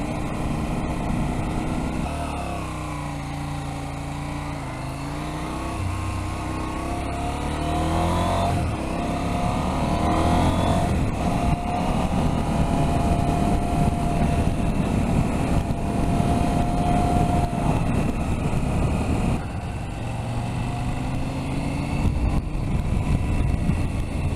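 A KTM 790 Adventure motorcycle under way produces a continuous engine drone with wind rush. Its pitch rises and falls gently as the bike rides along, and it stays loud and steady throughout.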